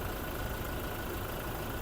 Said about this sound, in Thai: เสียงเครื่องยนต์นะครับ ก็เดินนิ่งๆเลยนะ